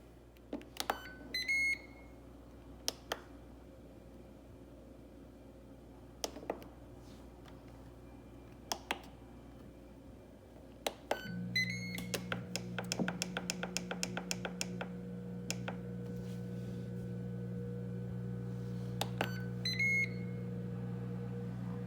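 An air fryer control panel chirps with a scattering of short electronic beeps while it is set to 400 degrees for ten minutes, then a steady low fan hum starts and keeps running under a quick run of rapid beeps.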